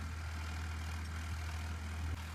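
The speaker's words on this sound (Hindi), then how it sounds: "अब ट्रैक्टर ने कर दिया अपना काम शुरू" A tractor engine runs steadily while ploughing a field, a low, constant throbbing drone heard close and alone without talk.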